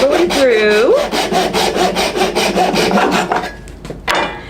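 A hand saw cuts all the way through a piece of wood in steady back-and-forth strokes, loud and close, the rasping rhythm slowing and stopping near the end.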